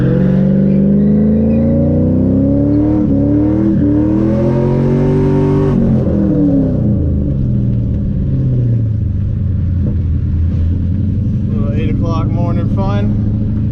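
A car revs and drives wide circles on an empty lot, with loud, close engine drone rising and falling in pitch as it turns, followed by lower rumble and tire noise; a voice talks over it.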